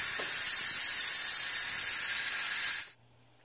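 Steam hissing loudly and steadily from an Instant Pot's manual pressure release while making honey garlic chicken, a close, continuous rush that cuts off abruptly near the end.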